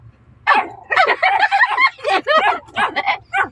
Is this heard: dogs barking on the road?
yes